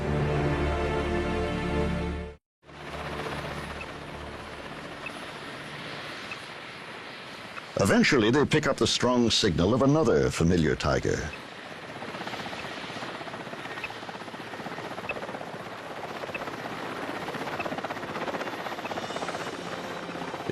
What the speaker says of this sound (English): the helicopter provides a distraction, saving the boar